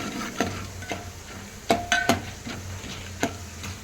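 Ingredients for white veg uppittu frying in a pan, a soft sizzle under repeated metallic scrapes and clinks of a spoon stirring against the pan, several sharp taps clustered in the middle, with no talking.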